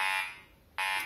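A high electronic tone sounds, fades, then returns abruptly, a Fisher F22 metal detector's iron signal, loud and clear with no talking.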